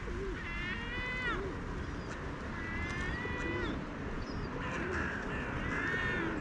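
Silver gulls call repeatedly outdoors by a field with heavy traffic, giving harsh, wavering, stacked cries in three bursts over a steady roar of traffic.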